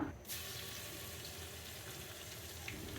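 Dry red chillies and panch phoron sizzle in hot mustard oil, a steady soft hiss and crackle held throughout after a brief quiet start, with no talking.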